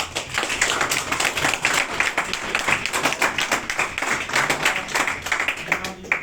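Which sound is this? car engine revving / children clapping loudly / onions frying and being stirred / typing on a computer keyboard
children clapping loudly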